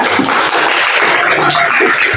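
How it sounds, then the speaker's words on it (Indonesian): Audience applause in a classroom or lesson setting for a person named Mas Ruri, a dense, steady patter of clapping hands filling the whole stretch at close range with no voices over it. "tepuk tangan untuk Mas Ruri ya"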